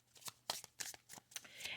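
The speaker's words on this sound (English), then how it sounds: "Now, I'm going to lay out some other cards here." Tarot cards are laid out and shuffled by hand in quick soft flicks and slaps, a brief close rustling sequence, quiet, with no voices.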